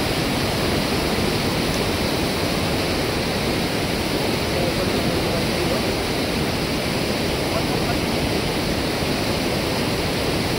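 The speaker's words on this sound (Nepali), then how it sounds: "यहाँ हेर्नुहोस्, पानी मस्तसँग बगिरहेछ" River water rushes steadily on the route toward Shey Phoksundo, a loud, unbroken wash of flowing water that fills the whole stretch with no voices over it.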